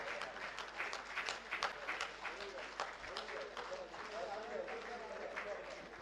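Loud, sustained applause from a crowd fills a grand public felicitation of IPS officer Quaiser Khalid in Aurangabad, with a dense, steady clatter of clapping and a voice heard faintly beneath it.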